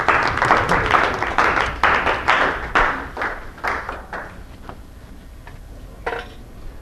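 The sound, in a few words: audience applause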